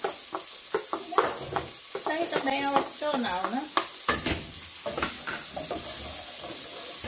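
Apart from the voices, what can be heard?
garlic and onion frying and being stirred in a pan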